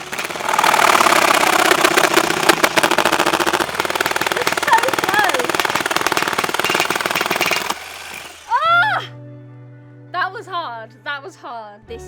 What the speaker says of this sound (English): I'm not sure that the jigsaw's going to get through it, but I'm going to give it a round 2